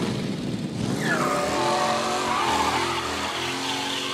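A race car engine in Mafia Definitive Edition revs loudly and continuously, its pitch climbing and falling with throttle, with exhaust pops as the driver lets off; no talking over it.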